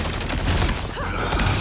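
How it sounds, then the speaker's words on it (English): Dense burst of gunfire in the team shooter game Rivals, loud and continuous with a chaotic, layered crackle throughout, no talking. "Those guys are about to shoot at us."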